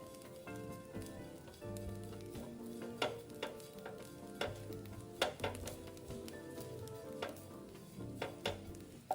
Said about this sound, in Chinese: 炒至菜脯与蒜瓣溢出香气，变得有点脆脆的，这时候再倒入点油，继续拌炒均匀